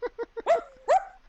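A dog gives three short yips followed by two longer, rising whining barks, close and clear with no other sound around them.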